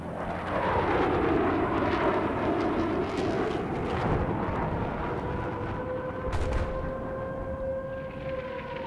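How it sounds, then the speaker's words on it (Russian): An enemy helicopter in the Battlefield video game roars through a loud battle soundscape, with a sustained rotor drone under rumbling blasts and a wailing, siren-like tone, continuous and dense. "К востоку от вас вражеский вертолет."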